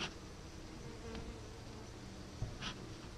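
Honeybees buzz at an open top bar hive outdoors, a faint, steady, continuous drone with no voices over it.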